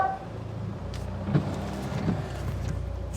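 A Mitsubishi Evo 8 fitted with a GrimmSpeed manual boost controller drives along with a steady, close engine drone and road rumble inside the cabin, broken by a couple of faint clicks and knocks.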